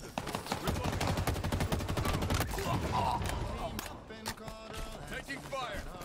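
Dense automatic gunfire from Halo Infinite in SWAT mode rattles in fast overlapping bursts for several seconds, loud and close, with players' voices talking over the shooting.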